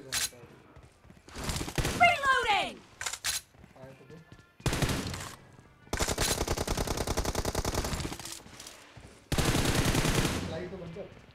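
An M416 assault rifle fires in BGMI during a 1v1 team deathmatch, in several loud, rapid full-auto bursts of a few seconds each, separated by short silences. A voice speaks briefly between shots.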